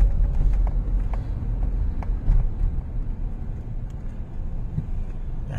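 Car driving along a Florida road between Sarasota and Port St. Lucie, heard from inside as a steady low engine and road rumble with faint ticks, no talking.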